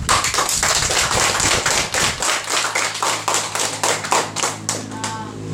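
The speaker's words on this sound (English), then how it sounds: "So I think all deserve a big round of applause." A round of applause for debate students at a school debate on cell phones, loud and steady clapping from a group of hands with rhythmic, dense strikes, some sharper individual claps standing out near the end.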